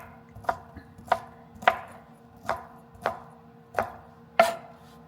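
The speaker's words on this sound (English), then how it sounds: "I like to cut it in small pieces" Sausage being chopped into small pieces with a knife on a board: seven crisp, evenly spaced chops, close and clear with no talking.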